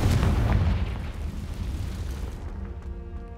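Confringo blasting spell blast in Hogwarts Legacy, heavy booming rumble right at the start that decays over a second into a lingering low roar, with soft tonal game chimes trailing toward the end.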